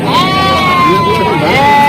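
A goat gives one long, loud, wavering bleat close by at a livestock market before Eid al-Adha, with a second call and crowd chatter underneath.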